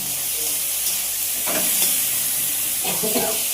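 Tomato, onion and chili frying in a pan for a Bengali mustard fish curry, giving a steady broad sizzle and hiss with a few scraping stirs partway through.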